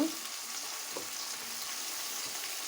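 Ginger and garlic paste frying in hot oil, giving a dense, continuous sizzle with occasional soft stirring scrapes, close and steady throughout with no voices.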